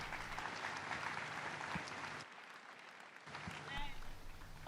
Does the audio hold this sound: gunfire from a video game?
no